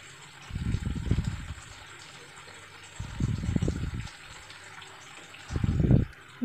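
Water is poured into a cooking pan of cauliflower kofta curry with capsicum and spices, heard as three short splashing pours of about a second each, separated by quieter gaps.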